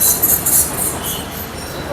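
A train rolling past at a railway level crossing near an underpass construction site in Anantapur, with a steady rumble and high wheel squeal close by.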